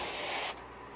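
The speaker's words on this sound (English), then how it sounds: "I just want to mist that brown up that bait a little bit" Airbrush or spray can misting brown paint onto a custom camo fishing lure: a steady close hiss for about half a second, then it cuts off, leaving faint room noise.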